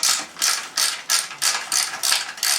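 Ratchet wrench loosening the wheel axle nut on a Triumph Bonneville motorcycle, eight quick, evenly spaced metallic clicking bursts in a steady rhythm, close and clear with no talking.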